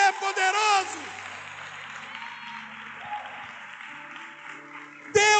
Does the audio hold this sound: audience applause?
yes